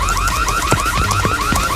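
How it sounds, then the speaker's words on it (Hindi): A school alarm rings loud and close, a rapid repeating electronic warble that pulses in even cycles throughout, alone with no talking over it. "अलार्म क्यों बज रहा है?"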